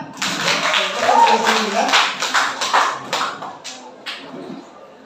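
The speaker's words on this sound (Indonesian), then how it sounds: "Tepuk tangan semua ya" Students in a classroom clap their hands together in a burst of mixed, uneven claps that fade out over a few seconds, with voices talking over and between them.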